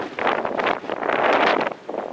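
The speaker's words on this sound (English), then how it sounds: "It is windy up here." Strong gusty wind buffets the microphone on a mountain top above Prescott, Arizona, as a loud, roaring rush that rises and dips without a break.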